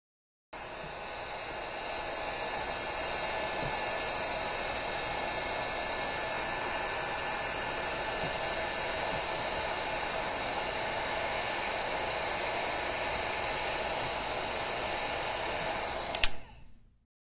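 Heat gun stripping raised hearts and characters from thrifted wooden furniture, a steady loud blowing whoosh with a constant hum that runs unbroken before cutting off at the end.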